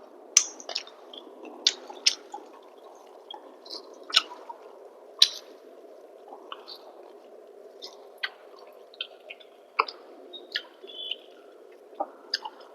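Close, wet chewing and squishy mouth sounds from eating shrimp with a thin katla fish curry cooked with ridge gourd and potato, with soft irregular smacks and clicks spread over a quiet room and no talk.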